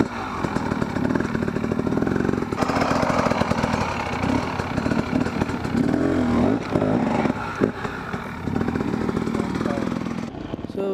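Enduro motorcycle engine held at light throttle while the rider hops a log or rock, a steady close drone with small surges and dips throughout, talk faintly underneath.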